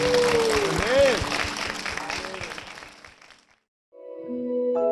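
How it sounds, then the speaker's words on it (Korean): Church congregation applause at Ilsan Saejungang Church, a dense wash of clapping under a speaking voice that fades out after about three seconds, followed by a brief silence and then a soft sustained tone. "오늘 축복하신 하나님께 영광의 박수 올려드리겠습니다"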